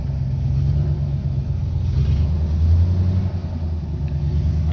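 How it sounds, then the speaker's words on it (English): The engine of an old 1976 Chevy C30 truck idles cold, a steady, loud, low rumble that carries on unbroken and close by, with no talking over it. "Cold-blooded, but plenty of oil pressure for being such an old motor."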